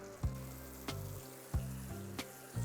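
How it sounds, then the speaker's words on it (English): Bacon sizzles steadily in a hot pan, a constant crackling hiss broken by a few sharp clicks and pops. "can you hear it sizzling?"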